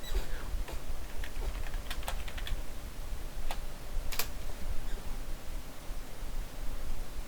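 Scattered keystrokes click on a computer keyboard, a few quick irregular taps and short bursts, faint and close over a low background hum.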